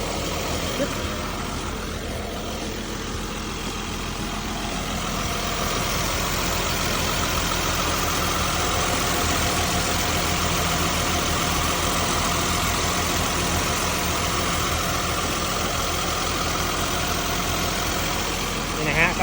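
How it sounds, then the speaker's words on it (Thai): A Caterpillar 3126 diesel engine in a Caterpillar D5N bulldozer runs with a steady, rumbling idle throughout, loud and close, while someone talks over the noise. "เขาใช้งานเป็นเครื่องยนต์ของ แคตติเบล่านะรหัส3 1 2 6"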